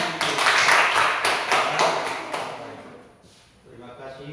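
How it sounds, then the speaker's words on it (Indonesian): A small classroom group gives brief applause, a few seconds of loose, close clapping with voices alongside, fading out into quieter room sound and talk. "Tepuk tangan."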